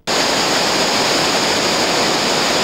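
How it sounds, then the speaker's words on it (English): Waterfall on the Nymboida River roaring as a steady, loud broadband rush of falling water that fills the whole moment without pause or voices. "And there's the waterfall."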